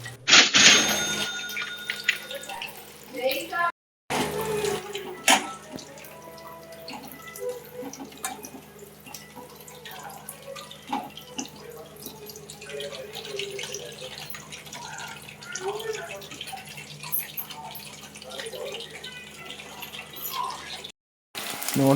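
Chicken kebab pieces crackle and sizzle in very hot oil, with a dense, close, steady bubbling hiss, a louder burst at the start, and a few brief cutouts.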